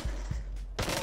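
Gunfire from the virtual reality zombie shooter Arizona Sunshine, a brief burst of low, punchy shots with a loud crack near the end, close and alone with no talk.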